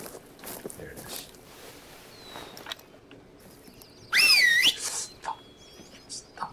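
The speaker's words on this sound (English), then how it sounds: "Stop whistling, you idiot." Short two-note whistle in theHunter: Call of the Wild, heard once midway over quiet outdoor game ambience with soft footsteps.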